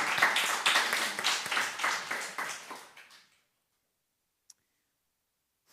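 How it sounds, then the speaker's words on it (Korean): A church congregation at a Sunday worship service claps together in sustained, even applause that tapers off after a few seconds into quiet, with one faint tap afterward. "우리 하나님께 감사의 영광의 박수 올리겠습니다."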